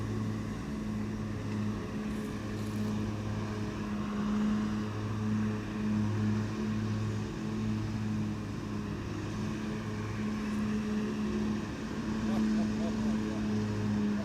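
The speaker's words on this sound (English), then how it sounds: "If you think you're hearing something, it is the grass being cut over here." Steady low engine drone of a Fendt tractor mowing grass nearby, a constant mechanical hum with faint higher whine, continuous throughout without pauses.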